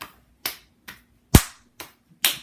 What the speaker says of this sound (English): And do the hand clapping there.